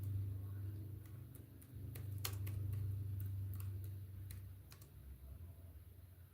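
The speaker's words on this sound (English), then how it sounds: "I'm typing something," A computer keyboard tapped in short irregular bursts of clicks, quiet and close, over a low steady hum, with no talking during the keystrokes.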